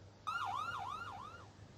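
An ambulance siren cuts in abruptly and wails up and down in repeated sweeping cycles over a low background rumble, loud and fairly close, then fades slightly toward the end.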